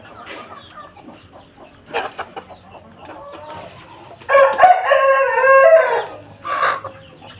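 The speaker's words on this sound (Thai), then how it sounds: "ชุดนี้ก็จะเป็นลูกไก่อยู่นะครับผม กับแม่ไก่นะครับ" A hen and chicks cluck nearby with soft scattered calls, then a loud hen's squawking cackle rises for a couple of seconds before quieter clucks return.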